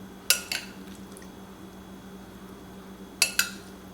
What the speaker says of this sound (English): We're just going to spoon this mixture in.